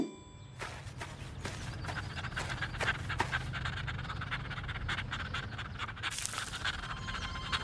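A cartoon dog pants rapidly and steadily in a kids' educational video game, the quick breathy huffs carrying on for several seconds over faint background scratching and taps.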